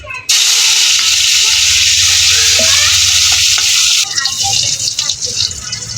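Garlic and dried chillies hitting hot oil in a pan, a loud, close, continuous sizzle that bursts in at once and then softens and turns crackly near the end.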